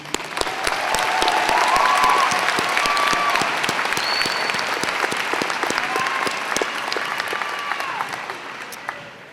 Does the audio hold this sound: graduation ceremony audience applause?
yes